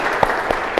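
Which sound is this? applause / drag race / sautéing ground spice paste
applause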